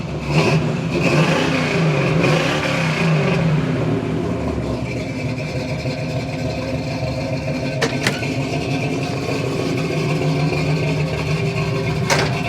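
A 1972 Chevrolet Camaro RS V8 cranks to life, then revs loudly and settles into a rough, throaty idle, heard up close with a few sharp blips near the end.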